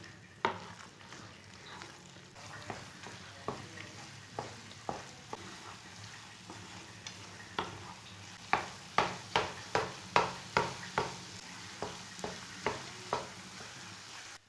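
A spoon scrapes and stirs through thick phool makhana halwa with pistachios roasting in a pan, giving repeated rhythmic knocks over a soft, steady sizzle, close and fairly quiet.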